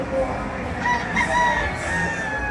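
A white dome gamefowl rooster with a straight comb crows in one drawn-out call. It is close and loud, against a busy background of other fowl and crowd noise.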